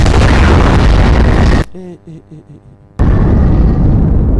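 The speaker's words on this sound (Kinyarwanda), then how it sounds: "uyu nawe yoherezamo ibisasu" Shells explode in a dubbed action film as two long, very loud roaring blasts. A brief spoken line sits in the quiet gap between them.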